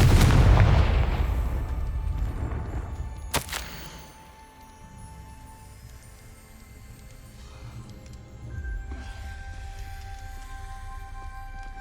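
A Confringo fire spell in Hogwarts Legacy goes off with a heavy boom at the start, then a sharp crack a few seconds later, followed by a fading rumble and quiet ambient tones.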